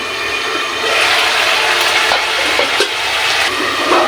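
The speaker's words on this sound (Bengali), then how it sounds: "আলু ভাজি চলছে এখানে" Potatoes fry in a pan on a home stove, giving a steady, loud, close sizzle with occasional stirring scrapes throughout.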